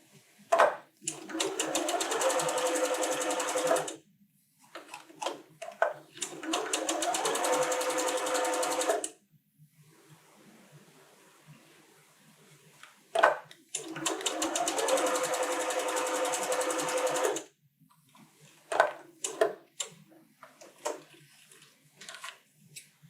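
An electric sewing machine runs in several bursts of rapid stitching through fabric, separated by pauses, with faint handling noises in between, while quilt pieces are sewn.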